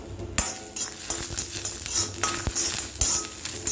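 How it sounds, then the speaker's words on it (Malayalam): Chana dal, cumin seeds and dried red chillies dry roasting in a pan, with steady stirring scrapes, light crackle and occasional sharp clinks of a spoon against the metal, close and alone. "കടലപ്പരിപ്പ് ജീരകം വറ്റൽ മുളകിട്ട് നന്നായിട്ട് നമ്മളിതിനെ വറുത്തെടുക്കണം"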